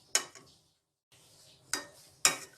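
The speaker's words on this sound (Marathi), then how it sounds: "स्लो गॅसवरती मी ढवळत राहणार आहे." Grated pumpkin cooking in jaggery over a low gas flame, stirred with a spoon that gives a few sharp metallic clinks against the pan with quiet gaps between them, close and fairly faint.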